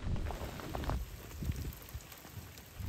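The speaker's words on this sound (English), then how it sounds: "party's over now because it started raining" A passing rain shower pattering on a narrowboat moored on a canal in autumn, a steady soft hiss of drops on the surface with faint low rumbles underneath, quiet and close.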